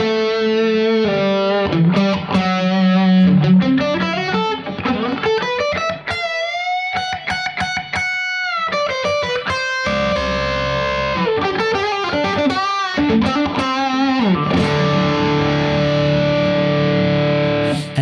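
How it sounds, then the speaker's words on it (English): An electric guitar runs through a Zoom G3 multi-effects unit with delay and a treble booster. It plays bright, distorted melodic lines and sustained notes with echoing repeats for about eighteen seconds. The playing is loud and close, with no talking. "Let's add the treble booster to that sound now as well."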